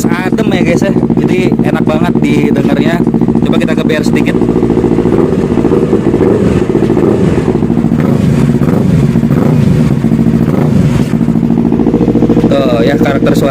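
A motorcycle with a Leo Vince exhaust is revved in short blips over a loud, deep idle, the engine note rising and falling several times close up.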